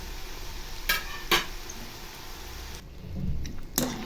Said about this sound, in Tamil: இதை ஃப்ரை பண்ணி எடுத்தாலும் இதே மாதிரி எல்லாத்தையும் ஃப்ரை பண்ணிடலாம்